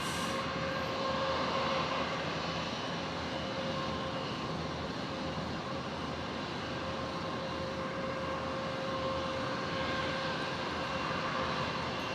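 An airplane landing at Brisbane International Airport, heard as a long, loud, steady roar of jet engines with a sustained whine, continuous throughout.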